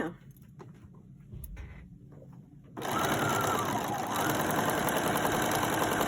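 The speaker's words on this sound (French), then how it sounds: "Je vais piquer à la machine." Sewing machine stitching fabric for a Christmas tree craft: quiet handling noises at first, then after about three seconds a loud, continuous, fast motor whir runs close to the end.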